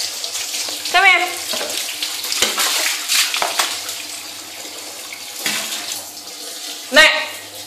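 Water runs from a tap into a sink during hand washing, splashing and gurgling unevenly with a few sharper splashes, close by, while a voice talks over it at times.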